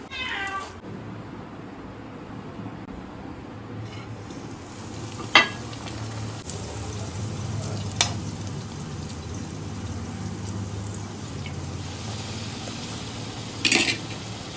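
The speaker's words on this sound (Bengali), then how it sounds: "দেখো এরকম একে একে সব লাল লাল করে একটু ভেজে নিচ্ছি" Chhana kachori deep frying in oil, a steady crackling sizzle at moderate volume with a few sharp utensil clinks, and a cat meows briefly near the start.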